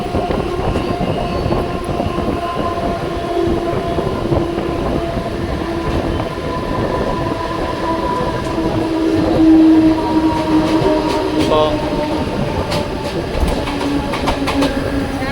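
A Mumbai local commuter train rumbles past close by a platform, loud and continuous, with rhythmic clatter of wheels and brief metallic squeals.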